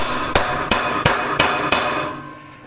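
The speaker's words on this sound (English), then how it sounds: "Just give it a couple whacks to make sure she's nice and flat and even." Five sharp, evenly spaced hammer whacks ring out on welded metal while flattening an ornamental trail marker, each strike loud and close with a metallic ring that fades after the last blow.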